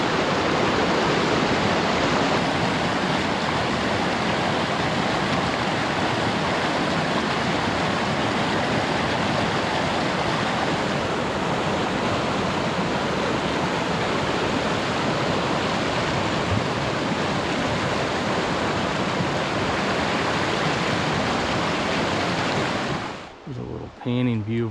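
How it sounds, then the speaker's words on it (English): Lick Creek rushes loudly right beside a backcountry camp in the Bob Marshall Wilderness, a dense unbroken roar of water that cuts off abruptly near the end, with a voice briefly present. "we got the creek running right beside us"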